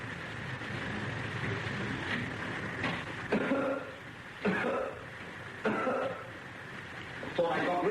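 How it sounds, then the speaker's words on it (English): A few short, harsh coughs burst out at intervals over steady background noise, fairly close. "Thought I got rid of that cough."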